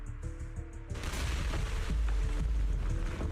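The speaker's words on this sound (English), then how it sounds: "Explosions everywhere?" A sudden barrage of booming blasts and rapid gunfire-like bursts erupts in a video game after a brief calmer moment, loud and continuous.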